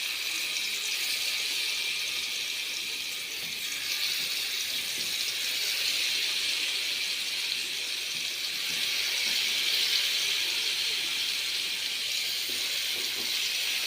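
Chunks of yam sizzle steadily in hot coconut oil, a dense, continuous frying hiss that stays loud and even throughout with no talking.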